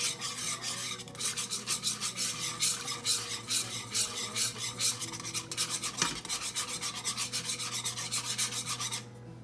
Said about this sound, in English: you're just going to keep stirring